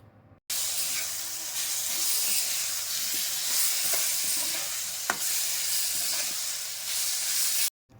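Masala with ginger-garlic paste frying in oil over a low flame for a potato and green chilli curry makes a loud, steady sizzle. Occasional scraping stir clicks sound through it, and it starts and stops abruptly.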